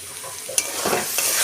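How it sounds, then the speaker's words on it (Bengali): Greens and fried eggplant are stirred together in a hot pan, a steady sizzle under scraping strokes of a spatula, with a sharp clack near the start and louder stirring bursts toward the end. "দিয়ে ভালোভাবে আমি মিশিয়ে নিচ্ছি শাক আর বেগুনটাকে।"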